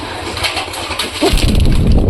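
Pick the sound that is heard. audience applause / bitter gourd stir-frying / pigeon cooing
pigeon cooing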